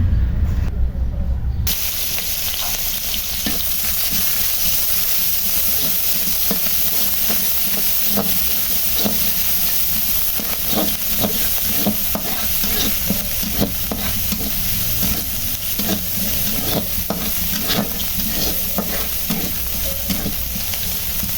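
Oil heating in a pan before boiled greens go in: after a brief quieter opening, a loud, steady hiss sets in, scattered with small crackling pops that continue throughout.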